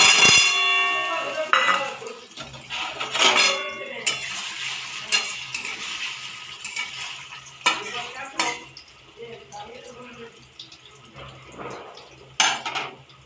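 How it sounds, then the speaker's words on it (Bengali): Paneer pieces hitting hot oil in a kadai bring bursts of sizzling with metal utensil clatter and stirring scrapes, and a voice is briefly heard near the start. "তো এইবার আমি পনিরগুলো কড়াইয়ের তেলের মধ্যে দিয়ে দিলাম।"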